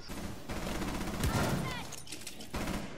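A grenade blows up in Rainbow Six Siege amid dense crackling gunfire, a loud burst with a low thud swelling in the middle of continuous rapid shots.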